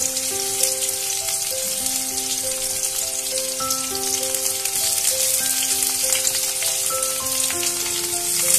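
Two medium-sized chopped onions frying in oil with cracked cardamom, giving a steady, even sizzle throughout under a soft melodic background tune, with no stirring strokes and no voices.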